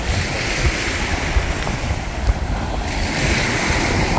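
Steady surf and breaking sea waves at Maraetai Beach in South Auckland, a continuous broadband wash with wind buffeting the microphone, no voices over it.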